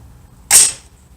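A single 6.5 Creedmoor AR-10 rifle shot on a long-range target course, a sharp crack that decays quickly, heard alone.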